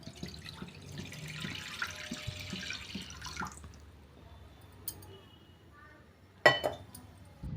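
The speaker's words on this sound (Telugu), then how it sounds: "వేరే ఒక బౌల్‌లో ఒక 3 కప్పులు వాటర్ తీసుకుంటున్నా నేను." Water poured from one vessel into a bowl in a home kitchen, a soft splashing and trickling that fades out, followed by a few light clinks and a sharp clatter near the end.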